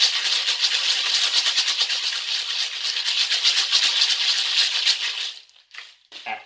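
Maracas, LP 394 model, shaken steadily in a fast continuous rattle to imitate rain or a waterfall, a loud dense wash for about five seconds that then breaks into a few short shakes near the end.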